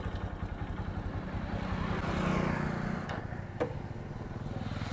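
A motorcycle idles steadily at the roadside after being stopped, its low even engine rumble continuous and close, with a brief click near the end.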